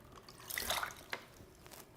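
Rinse water running through a home slushy machine, a faint trickling and splashing that swells briefly, with light drips, fairly quiet overall.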